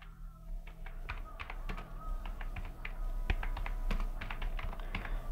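Typing on a computer keyboard, quick irregular clicks of keys pressed in short bursts, close and fairly soft against a low background hum.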